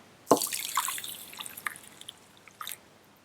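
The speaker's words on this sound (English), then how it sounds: "So we pour 1 cup of boiling water" Boiling water poured into a bowl of tea bags, a sharp first splash followed by a scatter of softer drips and trickles that come and go, recorded close and fairly quiet.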